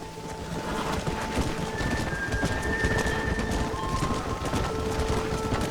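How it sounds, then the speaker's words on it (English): Heavy rain in the Red Dead Redemption video game during a sudden storm, a loud steady downpour with a low rumble underneath and no voices. "the rain doesn't render correctly. You can hear it, but I don't know if we can see it."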